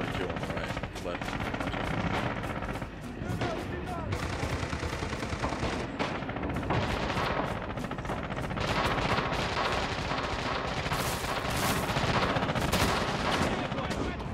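MG42 machine gun fire in Red Orchestra 2, a dense continuous rattle of rapid automatic bursts mixed with other gunfire, loud and sustained throughout, with the battle din never letting up.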